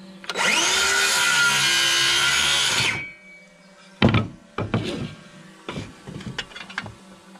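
Power saw cutting a 16-inch wood piece: a loud, sustained whine for about three seconds that winds down, followed by knocks and clatter of the board being handled.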